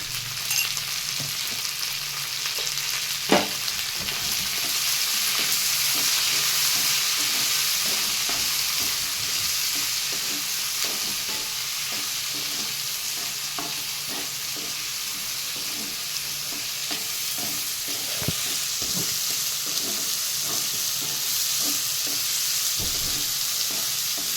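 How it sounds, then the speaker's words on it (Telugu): Green beans with raw coconut, salt and a pinch of turmeric fry steadily in a pan, a continuous close sizzle running throughout with occasional scraping stirs and small pops. "ఇలాగ ఒక 5 నిమిషాలు ఫ్రై చేసుకుందామండి"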